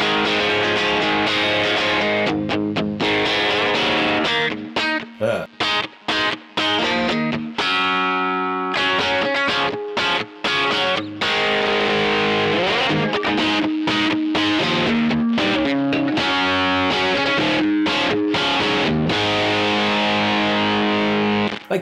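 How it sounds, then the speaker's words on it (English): An electric guitar played through a TC Electronic Grand Magnus distortion pedal rings out loud and alone, with chugging chords and sustained distorted notes in a steady, rhythmic stream broken by short pauses. "It's just like a straight up really, really useful distortion pedal."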